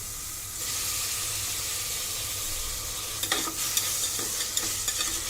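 Tomatoes sauté in hot oil for mutton kulambu, a soft continuous sizzle that swells after a moment, with light stirring taps and scrapes toward the end.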